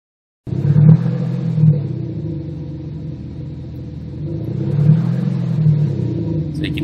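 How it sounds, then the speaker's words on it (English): A car engine fitted with a Kufatec Sound Booster idles with a low steady rumble, then revs up gently in a couple of slow swells, close and loud with no talking. "if we rev the car up a little bit"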